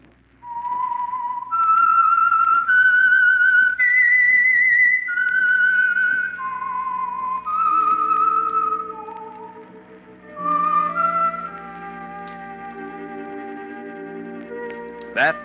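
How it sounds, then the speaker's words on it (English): A lone whistler carries the eerie theme of The Whistler radio drama, a slow, clear melody of sustained notes with light echo, before an orchestra enters softly underneath and carries the tune to a close. "That whistle is your signal for the Signal Oil program, The Whistler."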